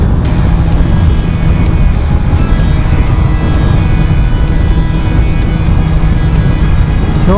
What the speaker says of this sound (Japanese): ちょっと多分うるさいでしょ、ハイウェイの上なんで。